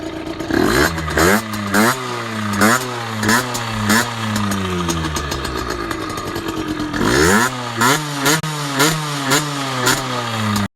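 A small moped engine revs loudly and up close in repeated sharp bursts, dropping back between revs, with a rattly two-stroke buzz.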